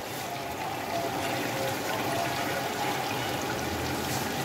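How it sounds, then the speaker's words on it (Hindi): Water pours steadily into a pot of fried beef for beef pulao, a continuous close splashing rush that holds at an even level throughout. "अब हम इसमें पानी डालेंगे"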